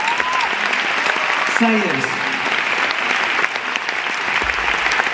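A concert audience in Pontevedra applauding, dense steady clapping from a large crowd that fills the whole stretch, with a voice briefly speaking over it.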